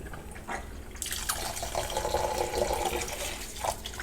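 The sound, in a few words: water pouring into bowl to soak sea moss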